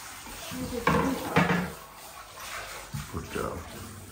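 Water splashes and rinses over a husky during a bath, soft irregular pours and splashes at low level, with a voice talking quietly at times.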